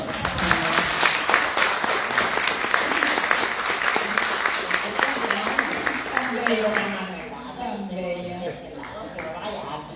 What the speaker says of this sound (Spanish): Démele un aplauso, por favor.